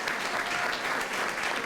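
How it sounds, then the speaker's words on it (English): Audience at an elementary school's 20th anniversary celebration applauds for the principal, a steady wash of clapping filling the whole stretch with no voices over it. "let's give Ms. Greer a round of applause for being an outstanding principal"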